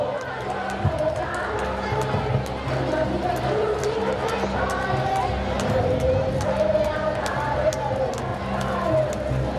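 A school annual day crowd in a hall applauds a third-place team's manager and captain, sustained dense clapping mixed with crowd murmur and a voice over a loudspeaker.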